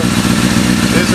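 A street bike engine idles close by while warming up, a loud, steady low rumble with an even putter and no revving.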